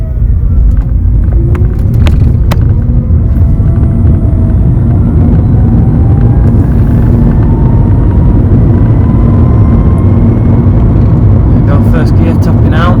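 A budget DIY electric-converted Volkswagen Beetle accelerates uphill in first gear, its cabin filled with a loud, steady low rumble of road and drivetrain noise and a faint rising motor whine throughout.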